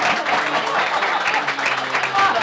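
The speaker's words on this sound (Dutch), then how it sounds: "Waarvoor graag uw hartelijke applaus." A studio audience at a Dutch news broadcast gives steady applause, dense continuous clapping holding at one loud level throughout.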